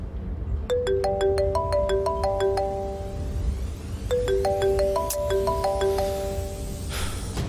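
A mobile phone ringtone for an incoming call plays a bright melodic chime pattern that runs through twice, loud and close, with no one talking.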